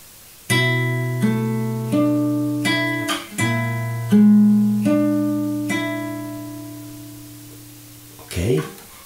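Measure 12 of a song on fingerstyle guitar: a handful of plucked notes over held bass tones, unhurried and close, letting the last chord ring out before a voice briefly starts.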